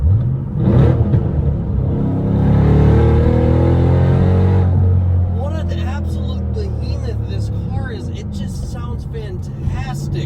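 A deep, powerful 2014 Shelby GT500 engine rumbles and revs up loudly, holding for a few seconds, then settles into a lower idle while someone talks over it.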